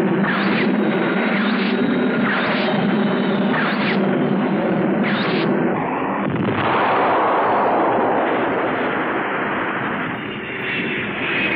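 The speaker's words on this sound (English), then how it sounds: "Did you see the force of that explosion as it hit the ground?" Film battle scene with planes firing on a target and a heavy explosion striking the ground: loud, continuous roar of aircraft engines with rapid gunfire bursts, then a broad blast rumble midway that swells and slowly fades.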